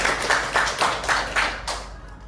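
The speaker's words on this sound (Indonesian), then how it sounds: "Tepuk tangan pada Margaret" A short burst of applause from a small group of students in a classroom, several people clapping together briefly before it fades out.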